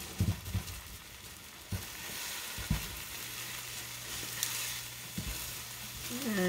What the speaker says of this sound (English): And if you see the eggs on the side, like here and there, just scrape it off with your spatula.